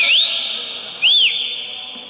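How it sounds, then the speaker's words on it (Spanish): Two sharp whistle blasts about a second apart, shrill and loud, each rising and falling in pitch over a steady high tone. "Tenemos que tener una clase de chiflido"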